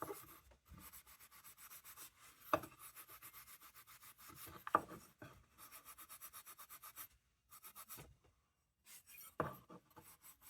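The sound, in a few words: steel wool rubbing a railroad lantern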